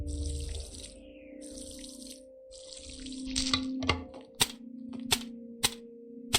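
Water runs from a tap in bursts while watering plants, the hiss starting and stopping, followed by a steady tone and a series of sharp clicks or taps.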